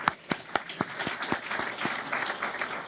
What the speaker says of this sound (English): Go ahead, give them a round of applause.